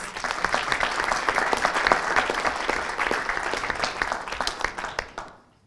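Sustained audience applause at a live talk, dense steady clapping throughout that tapers off and fades at the end.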